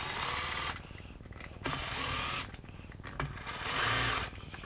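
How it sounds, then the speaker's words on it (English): A power drill whirs in several loud bursts while driving a part into a hoverboard scooter, the motor revving up and stopping between pulls, close and with no voices. "I'm going to flip the drill over, because now we're going in and set out."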